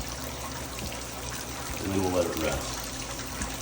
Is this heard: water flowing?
yes